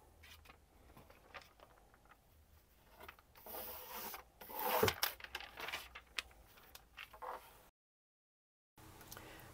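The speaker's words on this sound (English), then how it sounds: "you can just watch me rub off all of the copper leaf" Copper leaf being rubbed off a fabric collage, heard as quiet scratchy rubbing and rasping strokes that swell louder in the middle, then a brief silence before faint rubbing resumes.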